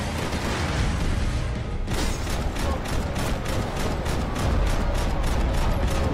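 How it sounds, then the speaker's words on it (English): Gunfire in Max Payne 3 crackles in a dense, steady burst of rapid shots over a loud, busy background of mechanical clatter. "Now would be a good time to start shooting, Max."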